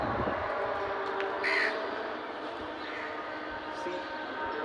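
Crows and pigeons gathered outdoors, with a couple of short harsh caws standing out over a steady background wash, fairly close.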